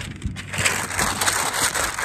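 Crinkly synthetic tent ground sheet rustling and crumpling continuously, with soft thumps as it is handled and folded, close and fairly loud.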